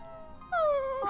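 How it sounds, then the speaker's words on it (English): A small dog in Final Fantasy VII whines in a short, rising then falling cry, near and clear over a quiet background. "Aww, whine. He's a little whiny dog."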